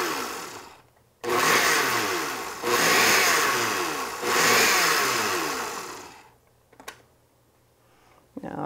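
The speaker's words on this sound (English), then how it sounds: "We're ready to blend it up here." A blender whirs through a basil mixture in loud pulsed bursts, three long roaring runs that surge and ease, then cut off into near quiet with a few small clicks.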